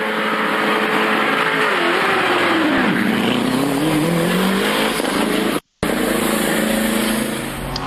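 A GT race car pulls out of the pit lane after a stop at the Red Bull Ring, its engine loud and rising in pitch as it accelerates away, with a brief dropout near the end.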